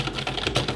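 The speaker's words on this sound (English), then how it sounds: "Here's the keyboard in. It has a mechanical feel to it." Close, fairly loud typing on a Razer Cynosa Chroma keyboard with a mechanical feel: a quick run of dense, overlapping keystrokes with no talking.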